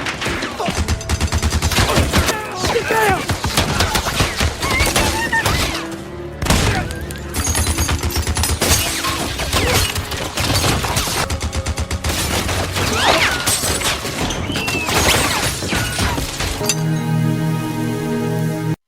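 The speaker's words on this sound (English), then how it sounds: "Not long after, Bogue began firing his machine guns at the village." Film battle scene from The Magnificent Seven with sustained machine gun fire raking a village: dense, rapid bursts of loud gunfire and clinking debris run almost continuously, with brief pauses before an abrupt shift to a quieter tonal passage near the end.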